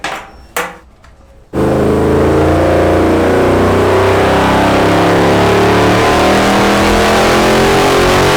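A V8-swapped van engine roars on a Dynapack hub dyno, a few brief knocks before a very loud, sustained full-throttle pull that holds steadily to the end.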